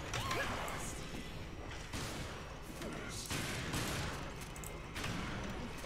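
Gunfire in the zombie game Resident Evil: Revelations, a steady dense barrage of shots with crashes and mechanical clatter running the whole stretch, loud and close.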